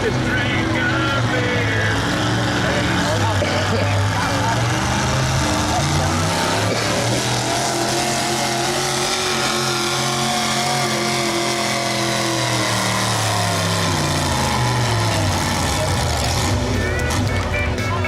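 A Massey tractor engine pulling at a harvest festival tractor pull, a loud, sustained roar whose pitch sags and climbs as the run goes on, with an announcer talking over it.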